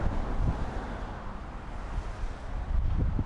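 Steady wind rumbles and buffets the microphone outdoors during a flight of a GTENG Cheetah T907W FPV hexacopter, with a constant low roar that swells near the end and no talking.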